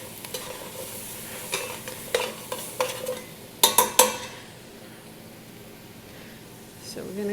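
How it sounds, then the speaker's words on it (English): Tomato paste being stirred in a hot pan with utensil scrapes and clicks, a few sharper clatters near the middle, over a low sizzle; someone speaks faintly in the background. "And we're going to stir that in."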